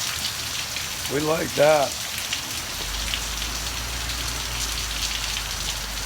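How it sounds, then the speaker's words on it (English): Steady rain falling at night in Georgia, a constant hiss of drops on surfaces throughout, with a brief spoken phrase early on and a low rumble joining later. "It's a rainy night in Georgia, folks."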